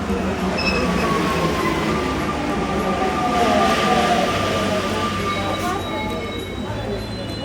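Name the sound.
Paris metro train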